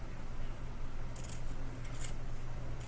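Scissors snipping thread strands close to a fabric seam, a few quiet crisp cuts over a steady broadband hiss.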